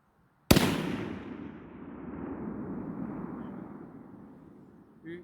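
A single sharp, loud rifle shot from a 6.5 PRC or .308 fired at long range on an 800-yard course, followed by a long rumbling echo rolling across open terrain that slowly fades.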